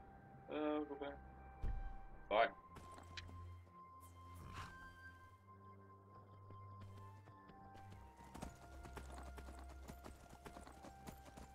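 Horse hooves clip-clopping on a ride in Skyrim, a steady soft trotting rhythm beneath a faint game ambience, with a couple of brief louder calls near the start.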